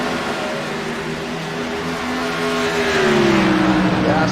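Race car engines roar steadily during a race with lap traffic, their droning whine rising and then sweeping down in pitch as cars pass near, loud and continuous throughout.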